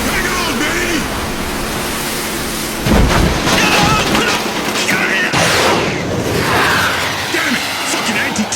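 Anti-tank missile explosions in the Black Lagoon anime, a sustained rumbling roar with heavy booming bursts around the middle and later, dense and loud, with voices shouting underneath.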